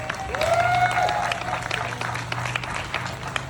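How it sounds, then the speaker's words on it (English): An outdoor crowd at the Coal Salute Freedom Festival claps for the local town government. The steady, fairly loud applause carries a faint whistle-like tone near the start and continues for the whole stretch. "Let's give them a round of applause for that first."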